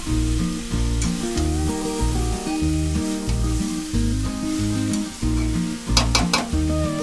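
Cabbage with fish head sizzles and fries loudly in a pan, stirred in steady rhythmic scrapes with crisp metallic clinks near the end, close up with no talk.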